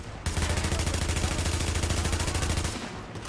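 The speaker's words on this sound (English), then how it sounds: "I'm gonna shoot you anyway, but still." Rapid automatic gunfire in the video game The Division, a loud, steady, evenly spaced stream of shots running for about three seconds before cutting off, with no talking over it.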